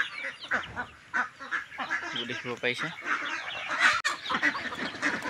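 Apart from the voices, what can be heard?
ducks and chickens calling on a farm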